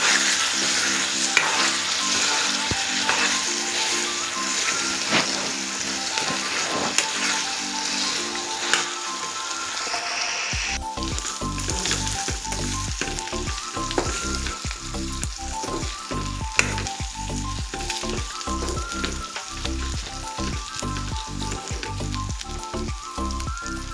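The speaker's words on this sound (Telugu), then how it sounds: "ఇప్పుడు కొంచెం కరివేపాకు కూడా వేస్తానండి. ఇదంతా ఒకసారి బాగా కలుపుకుందాం." Chicken frying with curry leaves in a pan, a dense, constant sizzle throughout, joined midway by steady rhythmic scraping and clinking as the pieces are stirred, close and loud with no talking.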